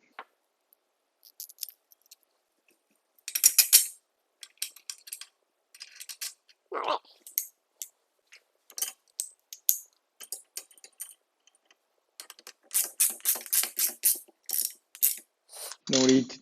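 A ratchet tightens the washer and nut on a Venom motorcycle rear lift stand under a Yamaha XSR900. Close clicking comes in irregular bursts separated by pauses, with a brief metallic clunk midway and a short knock at the end.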